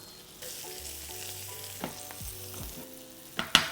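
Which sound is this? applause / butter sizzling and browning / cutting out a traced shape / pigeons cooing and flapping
butter sizzling and browning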